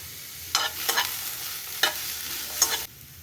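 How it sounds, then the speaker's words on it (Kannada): Onions fry in a pan for a chickpea veg kheema, with a soft steady sizzle broken by four sharp bursts of stirring and scraping. No one speaks. "ಈಗ ಇದನ್ನ ಫ್ರೈ ಮಾಡ್ಕೊಳನ್ರಿ."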